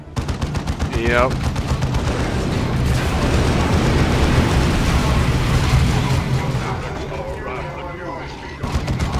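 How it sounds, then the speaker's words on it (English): Grenade explosions and rapid gunfire from a Dawn of War battle rattle in dense, loud bursts, with booming blasts layered over continuous machine-gun fire and a voice speaking briefly. "Was that the grenade spam?"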